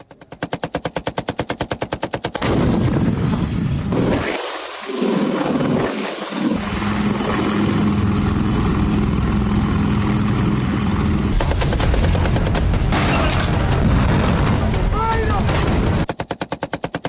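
Rapid bursts of gunfire crackle at the start and end, with a heavy roaring rumble of artillery blasts and wind in between, loud and outdoors during a military exercise.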